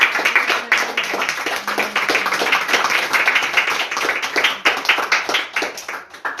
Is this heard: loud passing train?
no